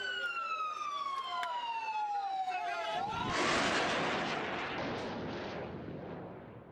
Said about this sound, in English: Many clips show the launching of Kassam rockets.